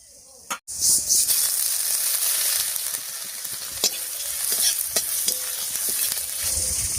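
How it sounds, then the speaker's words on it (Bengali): Crushed ginger dropped into hot oil with a cumin, dried chilli and bay leaf tempering, giving a sharp burst of sizzling that settles into a steady bright hiss with occasional spoon clinks and stirring. "সবকিছু ভাজা হয়ে গেছে, এবারে থেতো করা আদাটা দিয়ে দিচ্ছি।"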